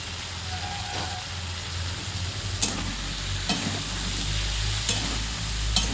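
Soybeans and vegetables being stirred in a frying pan for a potato and pointed gourd curry, with steady frying sizzle and a few sharp scrapes of the spoon against the pan, close up, no talking.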